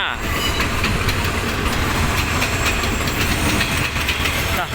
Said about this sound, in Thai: ขบวนรถด่วนที่86นะครับ และส่งริษัทจากศรีนครศรีธรรมราช ปลายทางสีกรุงเทพ น้ำโดยดีเซล45้า